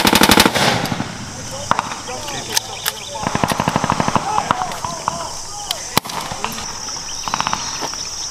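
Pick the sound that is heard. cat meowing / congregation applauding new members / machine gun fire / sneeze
machine gun fire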